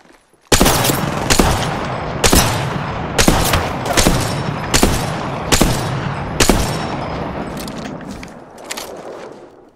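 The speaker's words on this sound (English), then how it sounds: "Firing. They spotted me. I'm taking shots." Gunfire in the Apex Legends video game: a loud, close series of sharp shots in irregular bursts, roughly a dozen cracks over ten seconds, each ringing briefly with a metallic tail, with no talking over them.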